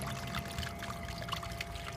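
Water runs steadily into a gold pan as a continuous close pouring trickle, low and even throughout.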